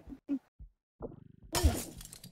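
An object shatters in the video game Repo. A few quiet knocks and a short ticking run lead into a sudden bright crash of breaking, which trails off with a little rattling.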